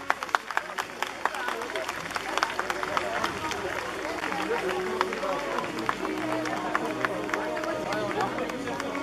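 An audience at a medieval sword-fight show in Commequiers claps steadily, with dense scattered hand claps under an announcer's voice and crowd murmur.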